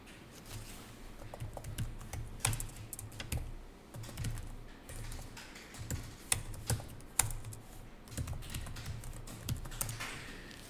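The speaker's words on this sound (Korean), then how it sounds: "그럼 여기다 타자 하시면 돼요" Typing on a computer keyboard during accounting entry work, irregular bursts of close key clicks with brief pauses, fairly quiet and with no talk.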